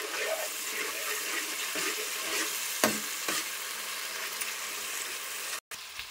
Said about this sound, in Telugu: ఇది మంచిగా వేగింది. పచ్చివాసన పోయేలాగా వేగింది.